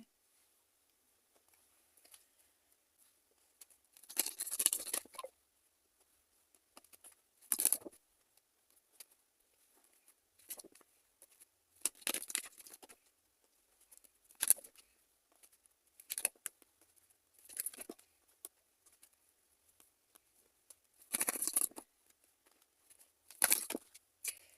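Tarot cards being picked up and shuffled, heard as soft, scattered flicks and rustling bursts separated by quiet gaps, close by but faint, with no one speaking.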